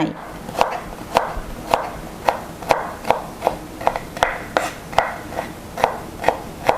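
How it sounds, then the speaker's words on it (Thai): A knife chops a washed carrot into the smallest possible pieces on a board, a steady run of about fourteen crisp, evenly spaced close knocks with no talking. "หั่นให้เป็นชิ้นเล็กที่สุดเท่าที่จะเล็กได้"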